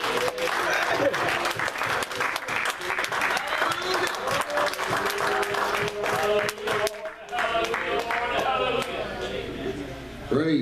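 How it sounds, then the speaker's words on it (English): A church congregation claps their hands to the Lord, dense and loud, with voices and music mixed in and speech rising over the clapping near the end. "Clap your hands to the Lord one more time."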